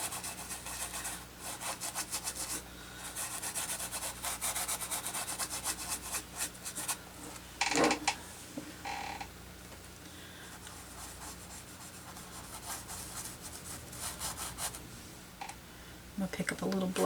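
Paintbrush rubbing fluorescent pink acrylic paint into canvas, a continuous close scratchy scrubbing in quick back-and-forth strokes, with a person talking over it at times.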